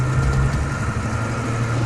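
A vehicle's engine idles while stopped, a steady low rumble that stays constant and close throughout the short stretch, with no talk over it.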